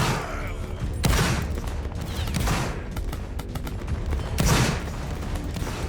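Volleys of rifle gunfire crackle in dense, overlapping bursts, with two heavier salvos standing out among a continuous scatter of shots, loud and close.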